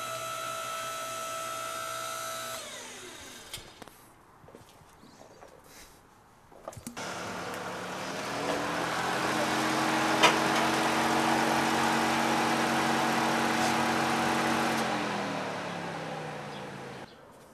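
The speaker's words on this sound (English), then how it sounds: "let's pump it up" A hydraulic pump on a vehicle lift starts and runs steadily for several seconds as the lift is pressurized, a continuous mid-pitched motor hum with harmonic whine that rises then tapers off near the end.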